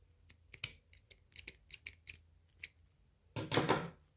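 Scissors snip through the loops of a handmade sack door mat, a string of small crisp clicks and cuts close by, followed by a short rustle of the sacking fabric.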